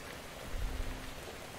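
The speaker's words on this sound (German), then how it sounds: "Ich liebe eigentlich Regen und sowas. Klingt immer sehr beruhigend." Faint, steady rainfall during a storm in the video game Metro Exodus, a soft hiss with a slight low rumble and no voices.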